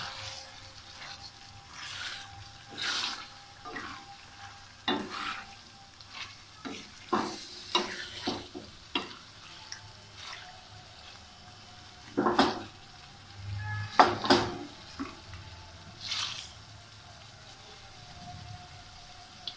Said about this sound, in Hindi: अब हम इसको थोड़ा सा तेज़ फ्लेम करके इसको थोड़ा भूनेंगे